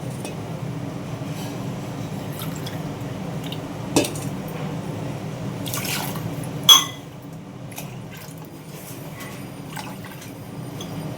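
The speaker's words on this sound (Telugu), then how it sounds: "మీ రైస్ని బట్టి నీళ్ళు పోసుకోవాలి" Water poured into rice in a pot for pumpkin biryani, a steady liquid rush with a couple of sharp metal clinks from the cookware, close and without talk.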